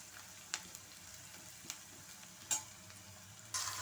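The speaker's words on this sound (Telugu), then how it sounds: "పచ్చివాసన అంతా పోయేదాకా వేయించేసుకుందామండి" Onions and green chillies fry in a pan for a tomato curry, giving a soft, continuous sizzle with occasional clicks and stirring scrapes, and a brighter burst of hissing near the end, faint and close, without voices.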